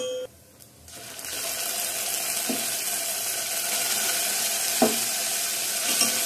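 Tempering spices with asafoetida sizzling in hot oil for pongal, a loud continuous hiss and crackle after a brief quieter start, with a few light utensil knocks on the pan.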